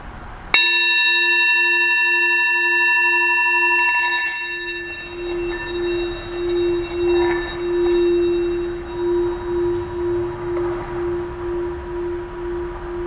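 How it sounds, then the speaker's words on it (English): A yoga bell is struck once, ringing out clear and loud, then decaying into a long shimmering tone that pulses in slow waves for over ten seconds. "We're gonna use our yoga bell."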